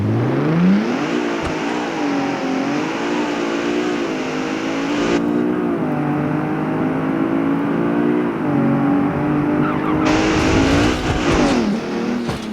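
Mercedes-Benz GT63 4-door in the BeamNG.drive game launching from a standstill, engine revving up through several gear shifts with rising whine and brief pauses between, loud and close.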